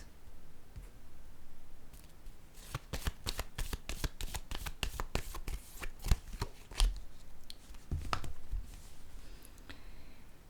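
Tarot cards being shuffled and one drawn, a rapid burst of crisp riffling flicks in the middle, then a few softer card slides and taps, close and quiet with no talking.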